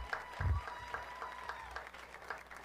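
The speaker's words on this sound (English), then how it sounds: "Give them a big round of applause." A crowd applauds the officials at a boys' varsity high school soccer game on senior night, a faint distant wash of clapping with some scattered crowd noise and a low thump.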